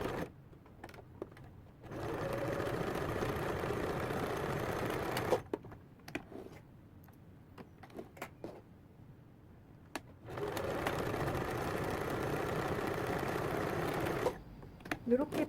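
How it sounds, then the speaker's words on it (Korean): A sewing machine stitching children's leggings fabric in two long, steady whirring bursts separated by a pause, heard close, with a voice talking quietly in the gaps. "노루발 간격이나 1cm 간격으로 이 부분을 양쪽으로 박아주신 다음"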